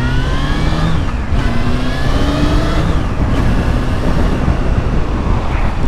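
Honda Hornet 600 motorcycle engine pulling hard while ridden, a loud continuous roar rising in pitch through two gear changes over steady wind rush.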